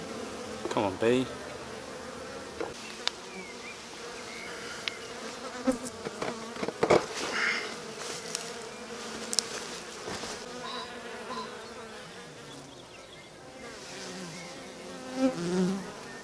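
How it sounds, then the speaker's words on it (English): Bees buzzing busily at the entrance of a backyard hive, a steady dense hum of many insects, with close passes of individual bees rising and fading over the continuous drone. "Come on, bee."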